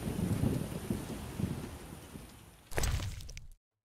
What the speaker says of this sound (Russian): Дождь не прошел.